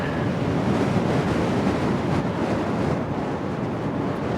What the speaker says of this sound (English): Yeah, the wind is definitely kicked up. It is blowing me.